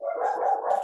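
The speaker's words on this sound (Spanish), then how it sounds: "Ay, disculpen los perros." Dogs barking in a continuous, fairly loud run of yelps and barks close by, with no talking over them.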